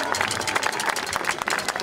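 A crowd at an outdoor rally claps in dense, continuous applause for the Île-de-France referents, a close, busy patter of many hands with voices mixed in.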